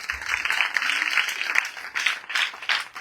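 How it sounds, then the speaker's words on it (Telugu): A crowd applauds loudly for about three seconds, a dense, steady wash of clapping at a public gathering. "గట్టిగా చప్పట్లు కొడతాం మనం."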